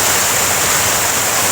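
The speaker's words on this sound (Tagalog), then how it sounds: "Kaning tubig nga musigana" Flowing water at Sam-angan in Busay, Cebu, a steady broadband rush of a stream running over rocks, continuous and fairly loud with no voices.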